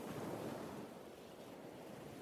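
Ocean waves heard as if held to the ear inside a seashell, a steady, hushed wash of surf with no distinct gull cries, soft and continuous throughout.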